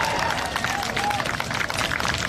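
Applause from an audience at an outdoor Stop Line 3 rally, a dense steady wash of many hands clapping with crowd noise throughout, fairly loud and continuous.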